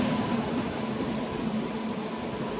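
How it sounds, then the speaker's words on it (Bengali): The Asansol Haldia Superfast Express, train 22330, pulls onto platform 1 at a small single-platform station: a loud, steady rumble of rolling wheels with faint high squeals from the rails, heard close and alone without talk. "প্ল্যাটফর্মে ঢুকে গেল 1 নম্বরে 222330 আসানসোল হলদিয়া সুপারফাস্ট এক্সপ্রেস।"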